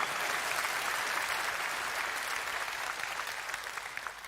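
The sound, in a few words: conference audience applause for the team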